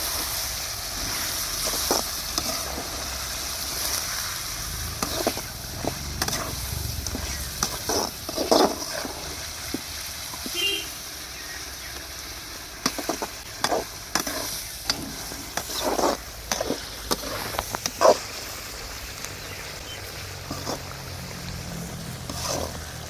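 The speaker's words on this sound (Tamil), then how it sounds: "பார்த்திங்கன்னா மீன் அருமையாக வெந்துட்டு இருக்கு" Pieces of shark fish fry and sizzle in hot oil for sura fish pickle, a continuous hiss broken by repeated scraping strokes of a spoon stirring the pan, close and fairly loud throughout.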